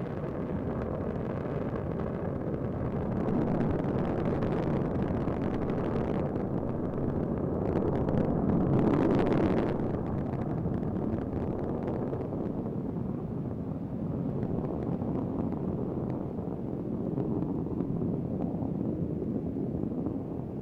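Space Shuttle Endeavour launching from the Florida coast at sunrise, a continuous deep roaring rumble that swells and holds steady, heavy and distant, with a wind-buffeted edge.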